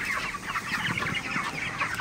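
Broiler chickens in a poultry shed cluck and murmur together, a close, busy chorus of short overlapping calls with no talking.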